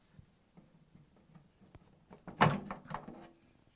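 Plastic door housing on an LG/Kenmore front-load washer is pulled free: soft ticks and handling noises, then a sharp snap-like knock with a short rattling clatter right after, close and dry.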